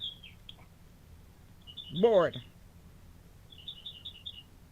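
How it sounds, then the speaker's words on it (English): Small birds chirp faintly in the background, with brief high tweets near the start and end around a short burst of talk from a voice coming through a phone line. "I hear the birds. Are those the birds in the background there?"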